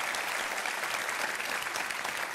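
Studio audience applause on a Turkish TV talk show during a cinema beauty contest segment, a dense, even wash of clapping that holds steady and fairly soft throughout.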